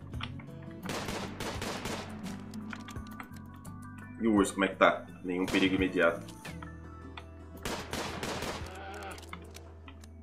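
Rapid bursts of gunfire from the game RimWorld, a few volleys in the middle, with someone talking casually over them and clicking keys in between.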